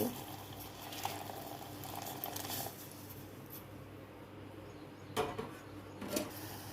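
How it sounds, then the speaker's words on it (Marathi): Milky tea with jaggery, ginger and lemongrass bubbling in a pot, a steady soft boiling hiss with faint popping that swells in brief bursts near the end, with no voices. "मस्त असा चहा उकळला आहे छान"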